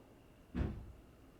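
A single muffled thump of a door or cupboard being slammed, brief and moderately loud against a quiet room.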